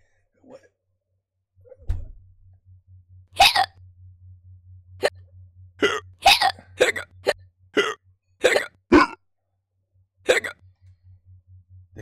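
During an a cappella performance, a voice imitates hiccups, giving sharp, abrupt vocal bursts in an irregular series over a soft, pulsing low beat, with quiet gaps between them.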